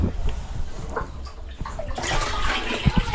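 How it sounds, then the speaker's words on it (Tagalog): Water pours steadily into a container at an outdoor birthday gathering in the Philippines, a continuous close splashing rush that swells louder in the second half, with a couple of low thumps near the end. "Maglalagay muna tayo ng tubig mga kadede."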